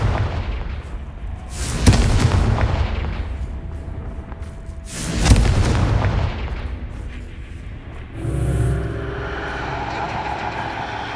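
Confringo fire spell blasts in Hogwarts Legacy: two heavy booming explosions a few seconds apart, followed by a crackling, fiery burst near the end.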